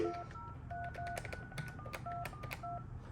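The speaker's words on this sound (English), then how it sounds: "I'm gonna dial the number again" Keypad tones from a Panasonic KX-TG9541 2-line DECT 6.0 cordless phone dialing a number: a quick run of short, steady two-tone beeps with brief gaps, close and clear over a faint room hiss.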